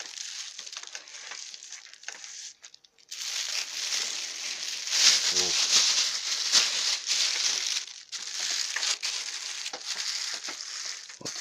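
Plastic bags of candy, a bee feed, are handled and set down on the hive frames during winter feeding, giving continuous close crinkling and rustling with a brief pause near the start.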